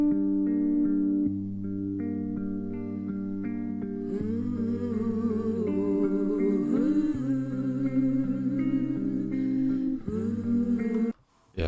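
A mellow, sustained musical passage with soft keys and held tones, building as a warbling voice-like melody enters, ending with a brief cutoff.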